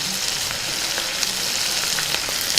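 Boti (tripe) fry with mint sizzling in a pan for a Telangana dish, a loud continuous close frying hiss with faint stirring clicks, no talking.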